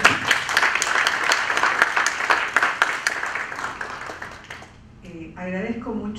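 An audience at an international notarial law conference panel on disability gives a loud, dense round of applause for a speaker; the clapping fades after a few seconds and a voice begins talking.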